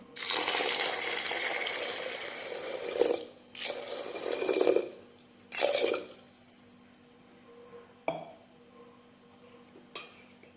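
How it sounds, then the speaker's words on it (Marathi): Water poured into a vessel of sprouted moth beans for misal, a steady broadband gush in several bursts with brief pauses, then a few faint splashes and clinks near the end; no speech. "यात आपण पाणी घालून घेऊयात"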